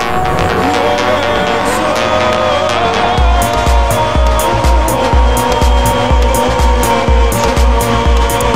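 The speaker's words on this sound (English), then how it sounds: "Drifts really good, fun car to mess around with." A car in the Street Outlaws racing video game revs and drifts, tires squealing continuously over loud engine roar and a pulsing, thumping backing track.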